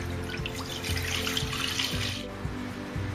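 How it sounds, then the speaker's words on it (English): Milk pours into a pan for Bengali rasgulla, a continuous close liquid splashing stream with soft bubbling that shifts partway through. "In a pan, add the milk."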